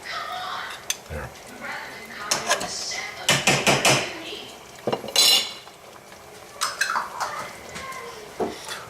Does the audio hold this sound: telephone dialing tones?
no